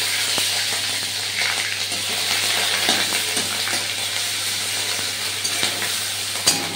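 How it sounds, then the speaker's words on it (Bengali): Garlic paste sizzles and spits in hot mustard oil in a pan, with kalo jeera (nigella seeds) already in the oil and stirring throughout, giving a steady close frying hiss with a few scraping knocks near the end. "প্রথমে দিয়ে দেবো রসুন বাটাটা, প্রথমে দেবো রসুন বাটা"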